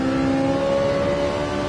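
A Nissan GT-R race car engine in Gran Turismo 7 hums at a steady high pitch on the Nürburgring, a sustained electronic-sounding drone without voices.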